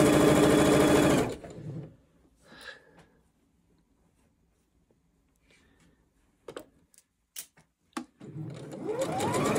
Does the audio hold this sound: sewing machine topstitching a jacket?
yes